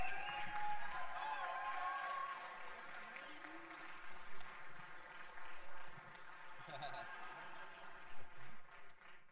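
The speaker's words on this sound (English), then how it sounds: "These guys work so hard yesterday and deserve a round of applause" An audience applauds EMS teams at a 2019 EMS simulation games event, scattered clapping under a steady crowd murmur, with people talking over it.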